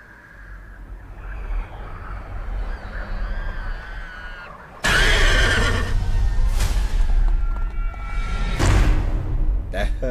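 A horse neighs in a science-fiction horror film trailer, first a faint wavering whinny under low rumbling, then a sudden loud burst of neighing and snorting over dramatic swelling sound.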